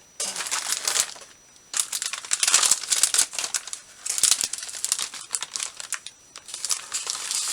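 Scrap paper crumpled and crushed by hand at close range, with bursts of loud crinkling separated by brief pauses, all without talk.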